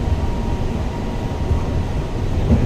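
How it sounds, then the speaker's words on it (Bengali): Driverless Gold Line metro train running, a steady low rumble and hum of the carriage in motion, continuous and fairly loud from start to finish with no talk. "Gold line train, gold line metro."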